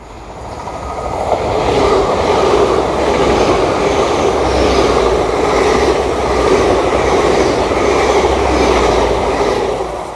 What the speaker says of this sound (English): We've got another train coming here.